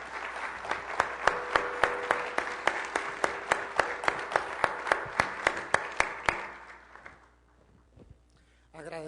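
Audience applause from those present at a public dialogue forum in Peru, honoring the presenter and panelists: steady, dense clapping with sharp individual claps standing out, lasting about six seconds before fading to quiet room tone.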